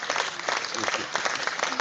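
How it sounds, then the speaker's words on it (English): Brief round of applause from participants at an online press briefing for the Biafra Republic PM, a dense burst of clapping with faint voices mixed in. "PM deserves a round of applause."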